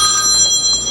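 A telephone ringing loudly and steadily, an electronic ring with several sustained bright tones that fills the whole moment with no one speaking.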